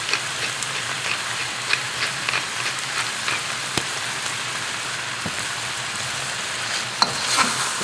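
Eel and onion wedges stir-frying in a hot wok, a loud, continuous sizzle with crackling spatter and a few sharp clanks of tossing, no voices.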